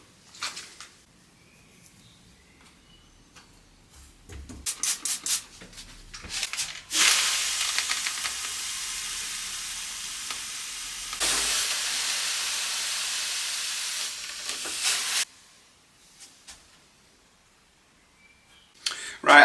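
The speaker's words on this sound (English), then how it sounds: "what I'm going to try and do now is raise these up with a bit of steam" Steam hisses onto dents in an old wooden table to raise them. A loud, steady hiss lasts about eight seconds, with a brief break, between quieter handling and tapping sounds.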